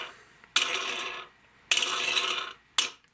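Metallic scraping and clicking as a knob puller works under a control knob on a Gibson ES-335 guitar, in three close bursts of sustained rasping contact with short gaps between them, with no talk.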